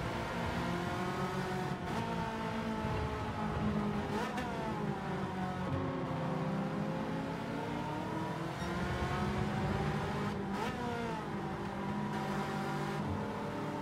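Race cars in Gran Turismo 7 at the Deep Forest circuit roar continuously, engines revving and shifting up and down in pitch as cars run close together, loud and steady with no speech.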